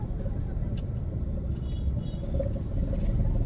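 Car engine rumbling steadily inside the cabin during a driving lesson as the clutch is released, a continuous low drone with no distinct revving.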